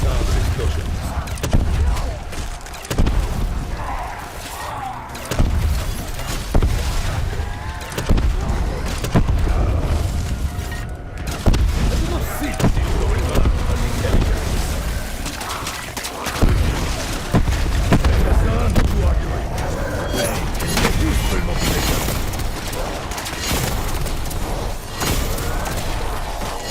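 Heavy in-game explosions boom repeatedly through a dense, chaotic battle soundscape, deep thuds and pops stacking over one another with a voice speaking amid the constant blasts.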